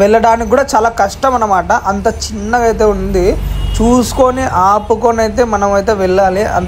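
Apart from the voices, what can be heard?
None of the usual background noises is heard.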